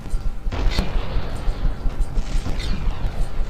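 Cannon fire during a naval battle in the game From The Depths, with heavy booms at irregular intervals over a dense, rumbling battle din.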